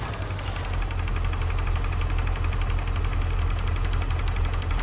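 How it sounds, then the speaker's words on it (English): A car engine rattles hard at idle with a steady, loud, close knocking drone that runs unbroken throughout, with no talking. "The engine's rattling its tits off"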